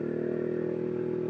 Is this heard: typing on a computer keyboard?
no